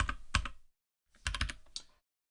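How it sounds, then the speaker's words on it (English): Computer keyboard typing while working on a Java command-line weather program, heard as two short bursts of quick, close clicking keystrokes separated by a brief silence. "And I'll just fix typing."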